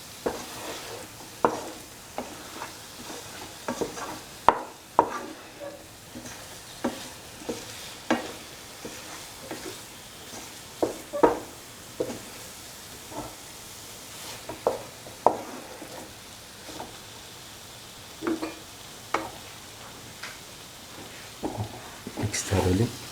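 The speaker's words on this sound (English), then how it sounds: "mix the paneer pieces with the rest of the mixture." Paneer pieces stirred into a cashew stew mixture in a pan, repeated scraping and clinking spoon strokes over a soft sizzle, close, with a voice talking at times.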